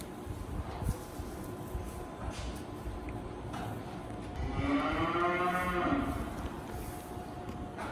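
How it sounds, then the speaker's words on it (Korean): A cow lets out a long, drawn-out moo in a cattle barn housing around two hundred mostly female cattle, heard over steady barn noise and faint background rustle, moderately close and lasting about two seconds. "이 암소를 길러서 새끼를 내서 팔 예정으로 주로 암소만 이렇게 기르고 있습니다"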